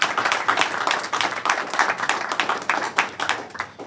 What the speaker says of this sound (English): So another round of applause for the students.